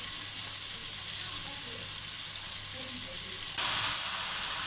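Chicken pieces fry in a hot pan with a steady, even sizzle and hiss throughout, close and moderately loud, with no talking.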